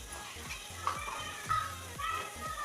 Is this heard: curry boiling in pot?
yes